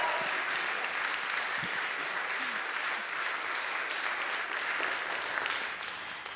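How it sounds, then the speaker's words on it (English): A church congregation breaks into steady, fairly distant applause that sounds like a room-filling wash of many hands, holding even for several seconds before easing slightly at the end. "applause, yelling, screaming, dancing"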